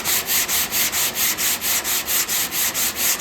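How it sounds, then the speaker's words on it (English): Block sanding a steel C10 truck tailgate: a steady, rhythmic rasp of strokes back and forth, about four per second, close and loud with no talking. "Well, I'll sand a little down here actually."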